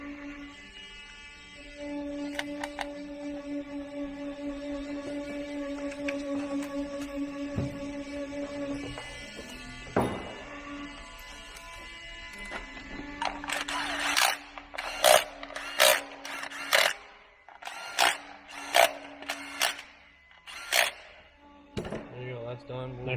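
A ratchet tightens the cam position sensor bolts on an engine, rapid bursts of close metallic clicking in short repeated runs in the second half, following earlier tonal mechanical whirring and a sharp clunk.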